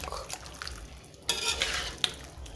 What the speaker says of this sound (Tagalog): Tapos, magsugkay tayo ng dahan-dahan.